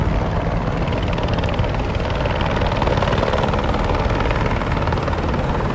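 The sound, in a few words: helicopters at Lower Manhattan pier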